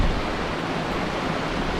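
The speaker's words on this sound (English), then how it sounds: "It's in distance, you can just hear waterfall." A waterfall near Bronte Bridge in the Yorkshire countryside gives a steady, even roar of falling water that fills the whole moment, with no voices.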